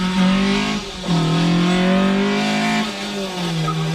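A Lancia Stratos-style rally sports car with a 2.4-litre engine and 290 PS drives hard, its loud engine note rising in steady pulls, dropping briefly between gear changes, with no voices.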